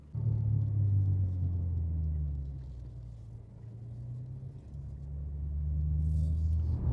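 BMW G80 M3 in Imola Red cruising on a wet road, a deep steady engine and tyre rumble that swells, dips in the middle and builds again, close and continuous without speech.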